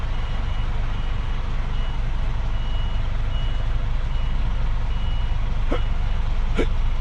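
A truck reversing on a farm gives steady, evenly spaced backup beeps over a constant diesel engine rumble, close and continuous throughout.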